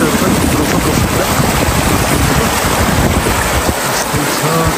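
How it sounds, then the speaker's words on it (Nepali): A mountain river rushes steadily near a trekking camp at about 4670 m on the Manaslu circuit, a loud, continuous broadband roar of water without pause. "यस्तै छ, खोला बगिरहेछ।"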